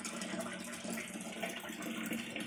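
Borewell water pours into metal vessels in a village home, a steady close gush and splash that runs on without a break and without voices.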